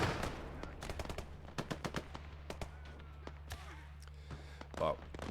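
Gunfire crackles through a Gates of Hell: Ostfront ranked PvP battle, with sharp, repeated shots in irregular bursts over a steady low rumble and a louder blast near the end, as a voice talks throughout.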